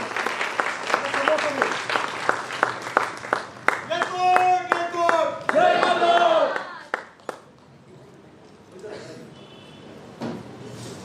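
Audience applause at a lifetime-honour ceremony: sustained clapping from a crowd in a hall, with shouts rising through the middle before it thins to scattered claps. Talk comes through at points.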